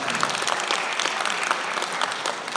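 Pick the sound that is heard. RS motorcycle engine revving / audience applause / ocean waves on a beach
audience applause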